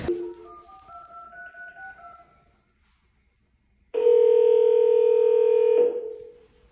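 A telephone gives a run of short, shifting dialing tones, then after a pause a single loud, steady tone holds for about two seconds before cutting off.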